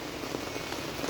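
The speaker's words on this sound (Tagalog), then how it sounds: "Umuulan dito sa atin." Steady rain pours down at night around 1 a.m. as a soft, even hiss of drops on surfaces, continuous and moderately near with no voices.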